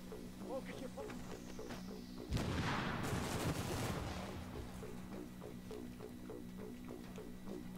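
A sudden burst of rapid gunfire erupts in The Division video game, rising loudly for a couple of seconds before fading back into a steady, quieter background.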